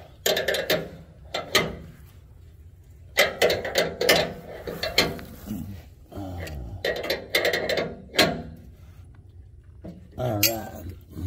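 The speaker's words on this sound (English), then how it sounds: "I'll take the wrench. Tighten this up." A wrench tightens a spark plug non-fouler on a car's oxygen sensor, producing short bursts of close metallic ratcheting clicks separated by pauses, with someone talking in between.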